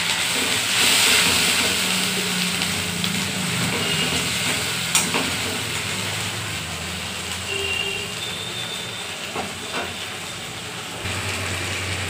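Spice paste with a splash of water sizzles steadily in a pan, a soft, even crackle that runs throughout with occasional faint clinks and stirring scrapes.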